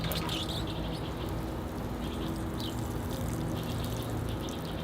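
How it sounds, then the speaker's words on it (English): Steady, close water pours and rinses over freshly cut bonsai cuttings taken from nursery stock, a continuous even wash with faint bird chirps in the background. "Here I go with the rinse cycle now."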